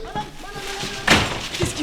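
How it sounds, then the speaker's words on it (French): A solid thud on a door in a French château setting sounds once, loud and close, with quieter bumps around it and speech-like tones before. "on frappe!"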